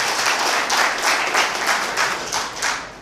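An audience at a business plan meeting applauds, with a steady patter of many hands clapping in loose waves for about three seconds.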